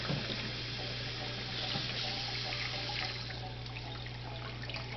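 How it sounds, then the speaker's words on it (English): Cold tap water runs steadily over boiled eggs in a kitchen sink, a constant splashing stream with a low hum beneath it and no talk. "We're going to take our eggs and run them under cold water."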